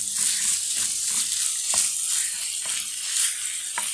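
Mexican chicken ingredients sauté in hot oil, giving a steady close sizzle with occasional stirring clicks and scrapes of a utensil against the pan.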